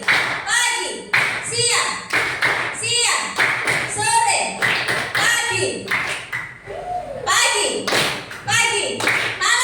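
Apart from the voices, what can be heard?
class applause, clapping hands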